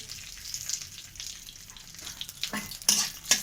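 Bay leaves and dried chillies fry in a small amount of hot oil for dalia, a soft steady sizzle with a few sharper crackles and spatters toward the end.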